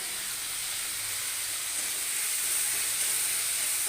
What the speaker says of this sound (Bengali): এখানে আমি জিরে ফোড়ন 2 চামচ দিয়ে দিলাম